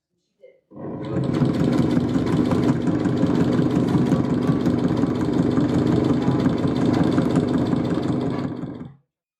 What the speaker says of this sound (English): it's time to do the longest section of sewing of the project